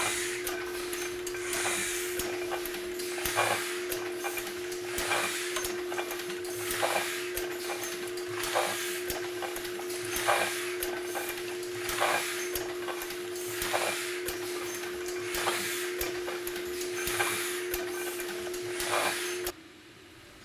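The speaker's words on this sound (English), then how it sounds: "I'll next clean up the press." A letterpress printing press being cleaned after a metallic ink print run gives a steady mechanical whir with regular rhythmic thumps about once a second, loud and continuous, stopping abruptly at the end.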